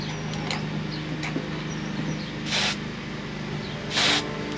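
Two short bursts of aerosol seam sealer sprayed onto the bed of a Range Rover Classic overland rig, each a loud hiss about half a second long, set against a steady low hum of a workshop.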